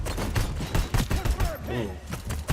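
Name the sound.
assault rifle gunfire in a video game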